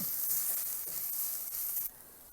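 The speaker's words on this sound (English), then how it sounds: "Now I'm going to give this ginger garlic paste just about 30 seconds in the pot." Ginger garlic paste sizzles steadily in a hot pot, a continuous bright hiss of frying that drops slightly softer near the end, with no voices.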